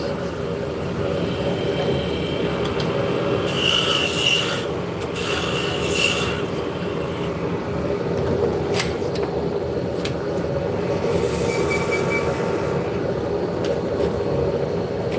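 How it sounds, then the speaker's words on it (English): Wood spinning on a Laguna Revo 1216 midi lathe is burnished with wax, giving a continuous rubbing, rasping friction over the steady motor hum, with intermittent louder scraping bursts. "Actually, this is a wood lathe. This is a Laguna Revo 1216."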